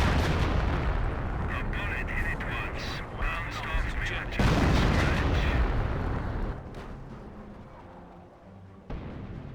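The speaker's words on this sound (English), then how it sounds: "And it's got on-map howitzer barraging these vehicles." Howitzer artillery barrage in the Company of Heroes 1 strategy game, a dense run of booming impacts and gunfire bursts rolling over a steady battle din, with a sharp heavy blast near the middle and a voice talking over it.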